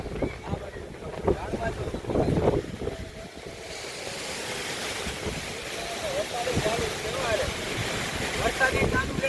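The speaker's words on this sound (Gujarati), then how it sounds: "વરસાદી ચાલુ છે ફૂલ પવન" Strong gusts of wind with rain roar and buffet the microphone at a resort in Sasan Gir, with a steady broadband rush that grows in the second half and a voice speaking over it early on.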